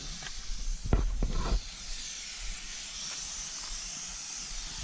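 A spray gun lays primer onto a 1959 Ford F-100, a steady close hiss, with a few sharp bumps and knocks near the start before the spray settles into an even rush.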